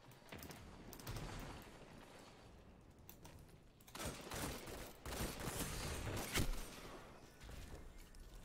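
Pulse rifle gunfire in Destiny 2 heard faintly as rapid bursts of shots, swelling louder in the second half amid game noise.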